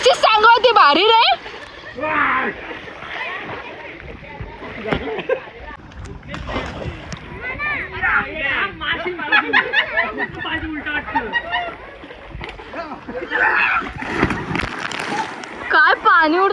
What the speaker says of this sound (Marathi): काय पाणी उडतं रे बाबा.